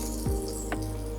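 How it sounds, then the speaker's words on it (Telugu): A hot tempering is poured into curd for a cut chilli bajji dish and makes a brief, close sizzle over a steady low hum. "ఈ పెరుగు కూడా తాలింపు వేసుకుంటున్నాము అండి."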